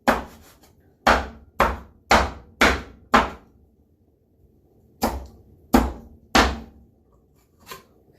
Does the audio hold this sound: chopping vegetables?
yes